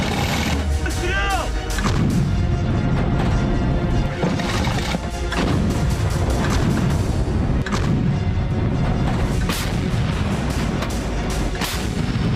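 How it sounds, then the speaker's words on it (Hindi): Artillery cannons firing in a war setting, loud repeated booming blasts with sharp cracks and rumbling echoes, several shots in irregular succession over a dense, constant battlefield roar. "तोपें आग उगल रही हैं"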